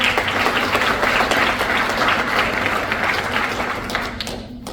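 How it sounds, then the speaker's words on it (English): Graduation-ceremony audience applauding the undergraduates of class 41-25, a steady, dense wash of clapping that holds throughout and tapers off at the end, with some hall noise underneath. "Please join me in a round of applause for the undergraduates."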